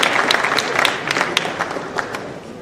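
An audience claps at an awards show, sharp individual claps standing out over a fuller applause that gradually thins toward the end.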